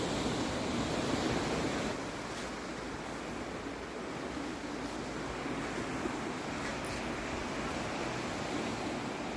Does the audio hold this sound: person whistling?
no